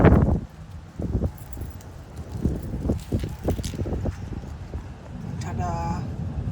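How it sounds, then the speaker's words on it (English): Strong wind gusts outdoors beside a Chevy truck, a steady broadband rush with buffeting on the microphone running throughout, mixed with intermittent clatter and a voice talking over it. "Sorry, it's really windy."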